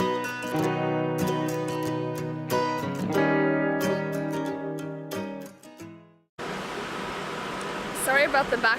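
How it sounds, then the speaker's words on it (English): Ringing tonal chimes and clattering echo through a busy train station, then give way to a steady, loud wash of crowd and machinery noise. "I know it's pretty loud, but I'm at the train station"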